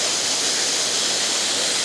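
Steady roaring rush of a waterfall in the Pyrenees in autumn, loud, dense and unbroken, heard alone without voices.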